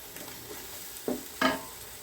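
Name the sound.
sautéing homemade biryani masala in a pan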